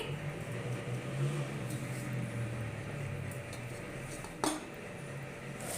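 Egg fried rice with sugar, vinegar and soy sauce being mixed in a pan, heard as a steady low background with light scraping and one sharp metallic clink near the end, no talking.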